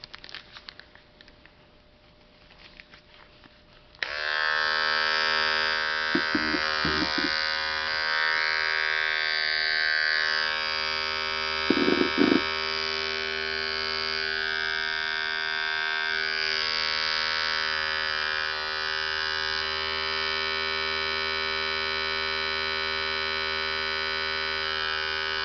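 An Andis Nation cordless Envy Li adjustable blade clipper (73045) switches on after a few quiet handling clicks, then runs with a loud, steady electric buzzing hum close by, with a couple of brief knocks partway through.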